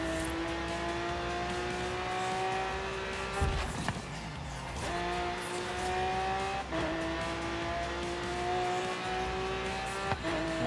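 Cars accelerating hard in a Forza Horizon 3 race, engines whining up through the gears with brief drops at each shift, loud and close, with a burst of tire or impact noise early on.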